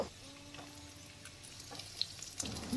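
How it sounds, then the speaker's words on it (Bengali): Potatoes and ridge gourd frying together in oil in a wok, giving a steady, moderate sizzle with a few light scrapes and clinks of stirring near the end, close by and without talk. "ঝিঙেগুলো দিয়ে আলু আর ঝিঙে একসঙ্গে ভালো করে ভাজবো।"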